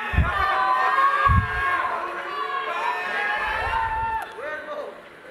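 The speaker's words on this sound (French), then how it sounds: "D'un côté, des gens qui m'aiment et je l'entends, merci beaucoup, d'autres qui me huent." A divided crowd at a closing ceremony erupts in loud mixed shouting, whistles and jeers, mingling cheers with boos in a dense swell that fades toward the end, while thumping booms sound beneath.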